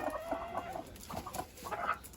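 Country chickens and roosters cluck in short, repeated bursts amid a scuffle among the fowl, moderately close with uneven pauses between calls.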